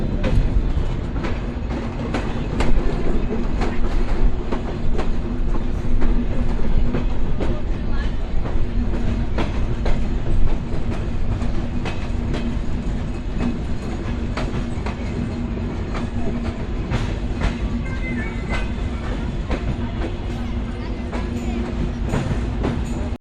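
A passenger train on the Khulna to Dinajpur route, in Kushtia near the Hardinge Bridge, rolls along with a loud, continuous rumble and steady wheel clatter heard from on board.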